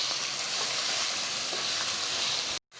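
Chicken and onions fry in a pan for a chicken biryani, giving a continuous close sizzle with light crackle and occasional stirring scrapes. The sound holds steady, then cuts to near silence at the end.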